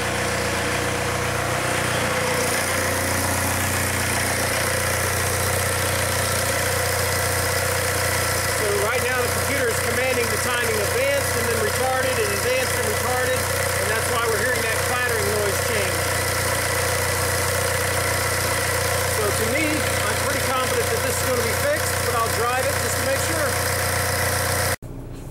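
A VW Golf TDI diesel engine idles close by with a low, constant drone, its tone shifting slightly in pitch partway through, with a P1248 timing fault code, joined by faint background chatter.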